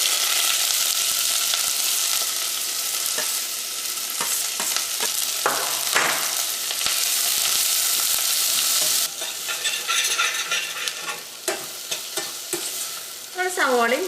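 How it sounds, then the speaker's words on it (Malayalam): Garlic, ginger, green chilli, onion and curry leaves sauté in hot coconut oil for Kerala beef masala, giving a loud, steady sizzle throughout with scattered spoon scrapes and clinks, and no talking. "വെളിച്ചെണ്ണ നന്നായിട്ട് ചൂടായിട്ട് ഇതിലേക്ക് നമ്മൾ ചതച്ച് വെച്ചേക്കണം വെളുത്തുള്ളിയും ഇഞ്ചിയും പച്ചമുളകും സവോളയും വേപ്പിൻ്റെ ഇല ഇട്ടിട്ട് നമുക്കൊന്ന് വഴറ്റിയെടുക്കാം"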